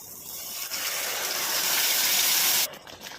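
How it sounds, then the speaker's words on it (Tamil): Water pours steadily from a tap into a mixer grinder jar for a few seconds to rinse it, then cuts off, leaving a few faint drips. "மிக்ஸி ஜாரில் அலசி ஊற்றிடுவோம்."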